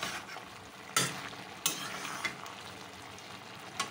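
A dried fish and eggplant curry sizzles softly in a pan, with a low, steady frying hiss broken by a few sharp scrapes as it is stirred.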